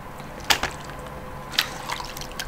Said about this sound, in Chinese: 然后浇料，